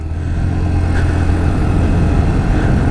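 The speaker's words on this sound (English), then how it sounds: "I am going to ride the Honda Activa 6G" Honda Activa 6G 110cc scooter at night, its 109.5cc engine giving a steady, close low hum like idling after start-up, loud and even for a few seconds with no talk.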